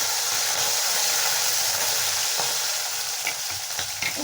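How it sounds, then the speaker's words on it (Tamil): Red and green chilies and curry leaves fry in hot oil with a steady, close, bright sizzle and crackle that runs throughout and carries a few small pops near the end. "இது நல்லா பொரிக்கிட்டுங்க."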